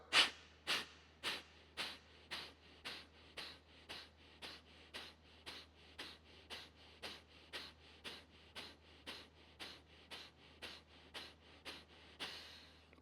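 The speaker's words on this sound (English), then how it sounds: "big breath in" About two dozen sharp, forceful breaths in a steady quick rhythm during a breathing exercise, each a close, loud rush of air through the nose, with no talking.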